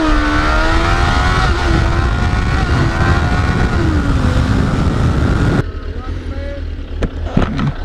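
A street rod at the Street Rod Nationals in Louisville, its engine roaring loud and steady with pitch sweeps as the tires spin, cut off abruptly toward the end, with crowd voices around.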